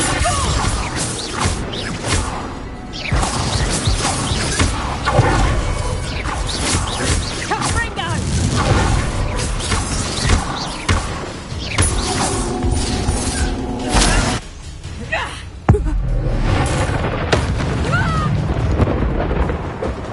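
Confringo and Bombarda spells erupt in Hogwarts Legacy with loud crashing blasts and whooshes amid dense battle noise, while voices speak over the chaotic explosions.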